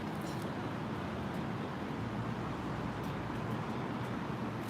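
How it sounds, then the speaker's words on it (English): Street traffic drifting past an open-air café terrace in Omotesando, Tokyo, a faint steady roadway wash with the soft rush of passing cars and no voices. "You can hear the cars, I think, right?"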